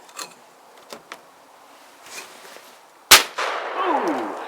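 A lightweight Cooey Model 84 12 gauge shotgun with no recoil pad fires a single sharp, loud blast outdoors, followed by a lingering echo and a rising whirring hum, after a few faint taps.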